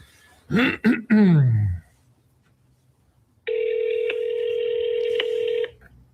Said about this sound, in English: Let's see if she'll answer the phone.